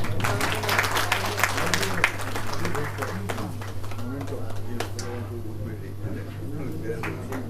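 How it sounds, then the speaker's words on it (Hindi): An audience at a women's Ramleela performance in a Delhi hall claps, strong at first then thinning to scattered claps over a steady electrical hum, with voices murmuring throughout. "जोरदार तालियां।"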